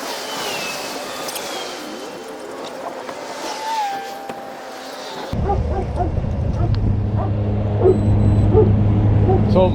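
A police dog barks in short repeated yips and whines, first alongside a passing vehicle, then under a steady engine hum from a stopped car on a roadside traffic stop.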